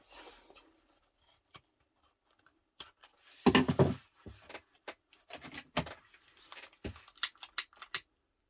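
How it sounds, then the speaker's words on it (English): Scissors snip through fabric in a few short bursts of crisp cuts, close and clear, with quiet pauses between. "Scissors."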